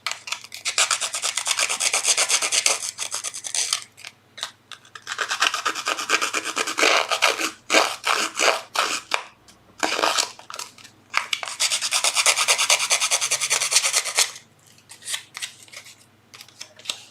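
Paper edges being roughened for a Halloween collage make a dry, close rasping rub in long bursts with short pauses between, loud and steady with no voices.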